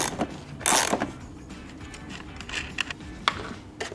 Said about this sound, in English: Just simply put your socket on each side and loosen them both at the same time.